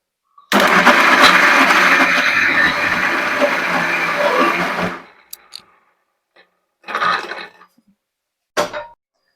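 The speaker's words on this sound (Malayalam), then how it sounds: "കുറച്ചുകൂടി അടിക്കാം മിക്സി ജാർ" A mixer grinder whirs loudly and steadily for about four seconds grinding moong dal into paste, then stops; two shorter blending bursts follow after pauses.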